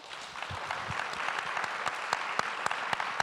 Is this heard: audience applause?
yes